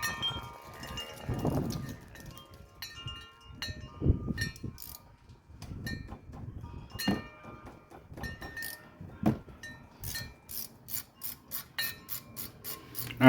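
Work on the bottom brake caliper bolt of a 2002 Crown Victoria LX Sport: intermittent close metallic ratcheting, clicks and scraping, irregular bursts with a rapid run of sharp clicks near the end, no talking.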